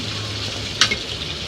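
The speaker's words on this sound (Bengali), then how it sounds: "এবার ঢাকাটা উঠে একটু নেড়ে দিব, কারণ নিচটা যদি লেগে যায় এর জন্য একটু নেড়ে দিতে হবে" Small loitta fish curry in a pan, heard as a steady low simmer and sizzle with a sharp brief clink near the middle as the lid is lifted and the curry is stirred, with no talking.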